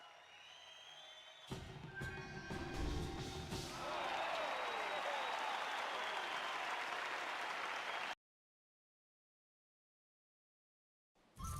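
Arena crowd in the game Jade Empire bursting into loud applause after a combat victory, sharp claps swelling into sustained clapping for several seconds, then cutting to silence before a brief sound at the end.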